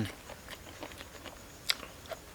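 Someone chews crunchy, firm fish roe close up, with faint irregular crunches and bites and one sharper crack near the end.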